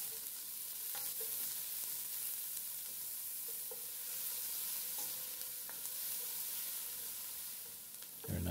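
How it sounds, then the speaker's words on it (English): Onions and tomato sauté in hot oil for a Guyanese gilbaka curry with green mango. A steady, close sizzle and frying hiss runs throughout, with faint stirring clicks and no talk. "Let that get really hot before we add the onions and the tomato. Just saute that around"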